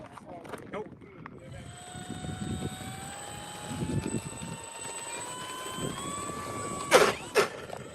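An RC model airplane flies overhead with a thin engine whine that climbs steadily in pitch. People talk nearby, and two sharp bumps come near the end.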